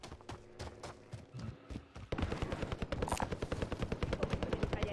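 Rapid automatic gunfire in a multiplayer shooter video game, with sparse shots at first and then a dense, loud, relentless burst of rattling shots.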